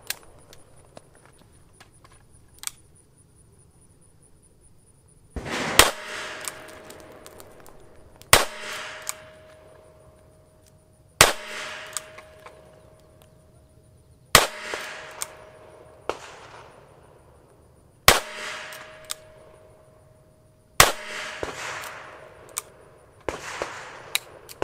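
A Taurus Defender 856 revolver fires Remington 130 grain rounds at 5 yards: six loud, sharp shots spaced a few seconds apart, each with a short ringing decay, plus a couple of faint clicks in the quiet stretches between.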